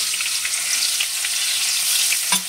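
Whole cardamom, cinnamon, mace and cloves frying together in hot oil for a Bengali leftover-rice dish, giving a steady close sizzle throughout with a brief scrape of stirring near the end.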